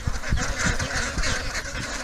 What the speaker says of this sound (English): we've just scared all these ducks, and they just all bloody ran out